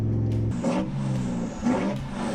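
A bogged 6x6 LC79 Landcruiser on an airstrip in Arnhem Land revs hard with tyres spinning, the engine note rising and surging in two loud pushes, close up with no talking.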